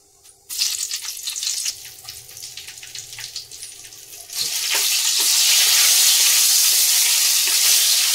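Nigella seeds and green chilies drop into hot oil in a wok, setting off a sharp, crackling sizzle that swells to a loud, steady hiss in the second half.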